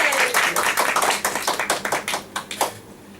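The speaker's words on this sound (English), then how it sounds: "Please give a big round of applause to everyone." Applause at a Toastmasters club meeting, starting as a fairly dense patter of clapping hands that thins into scattered individual claps before fading out.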